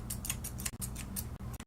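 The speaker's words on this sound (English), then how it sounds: "grabbing these thinning shears" Thinning shears snip through a West Highland White Terrier's coat while blending the head into the neck, a quick run of close, crisp metallic clicks in an uneven rhythm.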